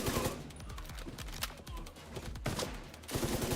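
Rapid bursts of L86 rifle fire in a video game crackle loudly and close, with brief pauses between volleys.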